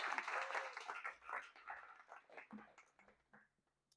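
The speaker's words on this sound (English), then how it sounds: "Everybody, please give one more round of applause for Tim Johns" Applause for Tim Johns at an Astronomy on Tap talk in Atlanta, a modest crowd clapping that starts full and thins into scattered claps before fading to silence.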